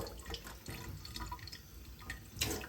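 Water trickles and drips into a jar holding tiny flecks of gold from gold panning, a light, uneven splashing with a brief louder gush near the end, heard alone.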